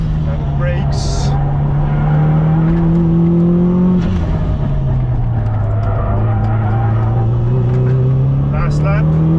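Subaru STI engine droning steadily on a karting track, its pitch rising and dipping with acceleration and hard braking on the last lap, loud and close with someone talking over it.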